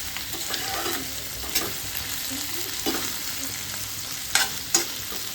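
Spices fry in a pan for chow mein noodles with a steady close sizzle, broken by occasional scraping stirs and a couple of sharp utensil clicks near the end.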